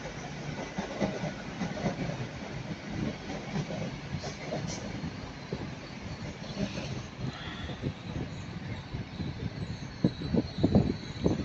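A train on a service up to Cardiff Central rolls past at Taunton, a steady distant rumble with rhythmic clicking of wheels over rail joints that grows a little sharper toward the end.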